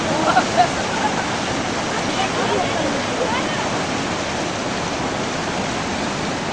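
A river in the Kaknai area of Champawat district rushes in a steady, dense wash of flowing water, loud and unbroken from start to finish with no clear pauses.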